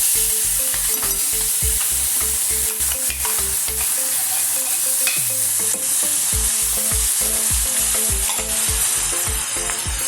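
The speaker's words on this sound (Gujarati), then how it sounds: "પછી આ બધું જે ડુંગળી, મરચાં, ટામેટાં બધું ક્રશ કરીને રાખ્યું છે એને આપણે અંદર ઉમેરીશું" Crushed onion, chili and tomato fry in a pan for Gujarati mag-bhat, a steady close sizzle with a rapid, regular stirring and scraping rhythm that pauses briefly midway, then resumes.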